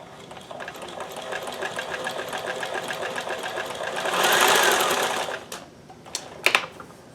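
Sewing machine fitted with a walking foot stitching fabric, a close rapid mechanical chatter that swells louder near the end and then stops, followed by a few sharp clicks.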